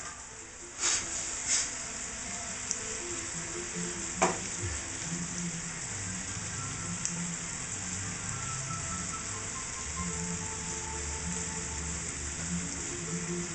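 A chicken, basil and roasted red pepper pasta sauce sizzles steadily as it reduces in a pan, a close, continuous crackling hiss with a few sharp clinks and stirring knocks early on.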